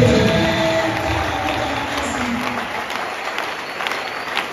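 A church congregation applauding during a Sunday service, a steady wash of many hands clapping that starts full and gradually thins out toward the end.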